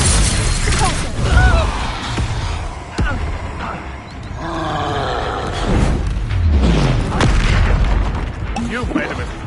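Expulso explosion spell blasts in Hogwarts Legacy boom several times amid a chaotic battle, with roaring and shouted voices layered over the loud impacts.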